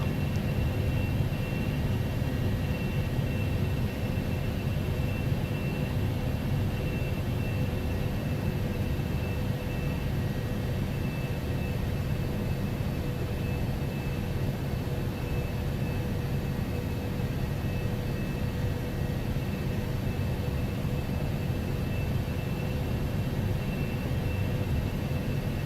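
A Gulfstream 550 business jet cruises in the X-Plane 12 flight simulator, giving a steady, unbroken cabin drone with a broad low rumble and a faint high whine, constant and even throughout with no talk.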